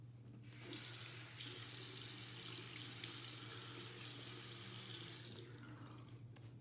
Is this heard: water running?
yes